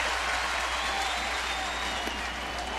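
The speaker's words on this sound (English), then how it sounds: "Listen to this crowd, boy." Baseball stadium crowd at a Kansas City vs St. Louis Cardinals game roaring with steady cheering and applause, a loud, dense wash that holds without a break from start to finish.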